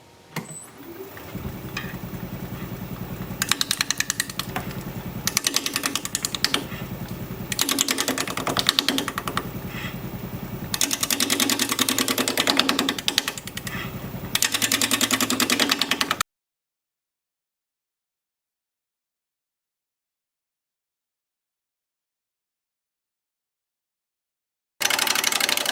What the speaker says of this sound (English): I'm going to be using my 5/8 inch standard grind bowl gouge.